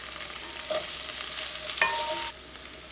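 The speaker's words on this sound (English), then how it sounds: "Stir them for about 2 minutes." Green peas and carrots sizzle steadily in a frying pan, with a few soft scrapes and stirring sounds over the hiss; no one speaks.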